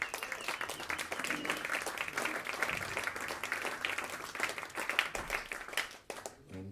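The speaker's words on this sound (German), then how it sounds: "Applaus." An audience applauds at a jazz master's concert at a music school, dense sustained clapping from a crowd filling the hall, steady throughout and tapering slightly at the end.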